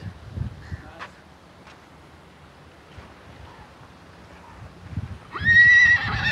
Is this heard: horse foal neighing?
yes